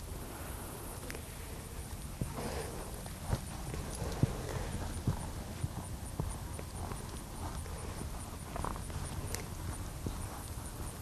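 A horse loping circles in an arena during barrel racing training, hooves giving a quiet, distant rhythmic clip-clop over a faint outdoor background, without talking.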